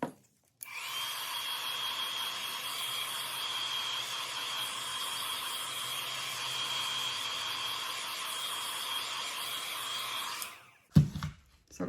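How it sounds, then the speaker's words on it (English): A heat tool blows steadily over acrylic pour paint in a fluid art piece, giving a faint, even whooshing hiss that runs unbroken for about ten seconds before stopping. "Now I'm going to use my heat tool to try and bring some cells up."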